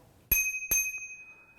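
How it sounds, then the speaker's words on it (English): Two quick, bright dings ring out from the bicycle bell on a DYU A1F e-bike, close and clear, each tone fading away in the quiet. "I've got a bell."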